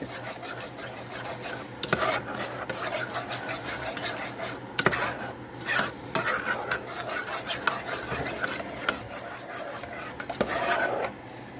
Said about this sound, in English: Let's get all that stirred up.